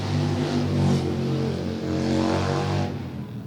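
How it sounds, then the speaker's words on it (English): Motorcycles out on a Sunday morning group ride roll past with a loud, throaty engine drone that swells, holds and then fades away. "The bikers is out. Sunday morning ride."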